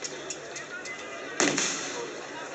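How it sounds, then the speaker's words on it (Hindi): A single sharp blast from a shell fired at protesting farmers bursts out mid-way, standing out loudly against a steady background of crowd noise and faint pops. "गोलों की धमाकों की आवाज़ें सुनाई दे रही होंगी"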